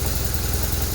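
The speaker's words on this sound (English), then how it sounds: "Obviously sounds very different because it's a boxer engine" A 2006 BMW R1200RT police motorcycle with a horizontally opposed boxer engine and 69,999 km on it idles close by, a loud, steady, low rumble with an even pulsing beat.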